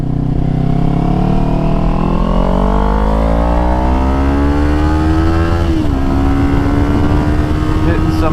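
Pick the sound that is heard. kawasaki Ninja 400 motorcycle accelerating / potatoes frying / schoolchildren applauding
kawasaki Ninja 400 motorcycle accelerating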